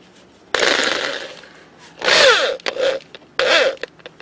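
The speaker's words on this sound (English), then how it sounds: "So what we're going to do is probably just enlarge that hole." A power drill enlarges an existing hole in metal in three loud, close bursts, the first long and steady and the next two shorter, with brief gaps and small clatters between them.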